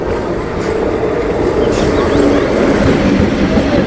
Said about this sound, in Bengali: ট্রেন নাম্বার তেত্রিশ পাঁচশো পঁচিশ ঢুকছে কাজীপাড়া স্টেশনের এক নম্বর প্ল্যাটফর্মে